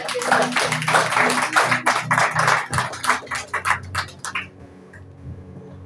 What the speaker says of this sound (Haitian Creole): Applaudissez même